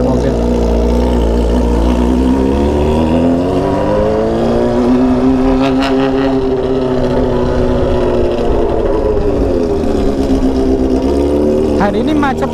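A car in traffic passes close by, its loud, steady engine drone rising and falling in pitch over several seconds, with a dense roadway rumble underneath.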